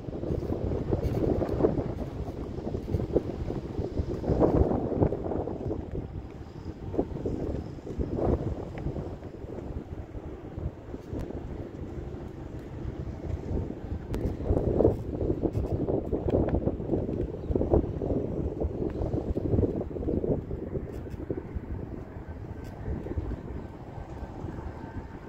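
Wind buffets a microphone on a golf course, a steady rumbling gust noise that surges and eases throughout with no other clear sounds.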